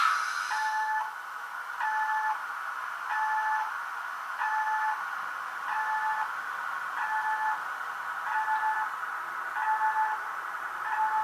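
A Rivarossi BB 8178 model locomotive sounds a faint, regular beep roughly once a second, repeating steadily throughout over a low background hiss.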